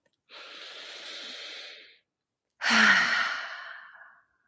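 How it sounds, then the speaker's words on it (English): A slow, deep breath drawn in for under two seconds, then after a short pause a stronger, louder breath pushed out and tapering away, close and clear with no talking. "take a deep breath."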